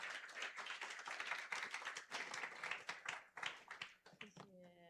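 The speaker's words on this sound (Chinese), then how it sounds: "我们用掌声来欢迎他" A church congregation at a Sunday service claps to welcome a missionary, a rapid, fairly faint round of hand claps that tapers off before a single voice begins speaking.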